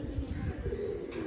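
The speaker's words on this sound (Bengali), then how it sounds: "নীলদুমা পায়রা।" Blue-tailed pigeons cooing in a loft kept for sale, a soft low murmur repeating steadily through the moment with faint background noise.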